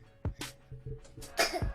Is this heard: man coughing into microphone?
yes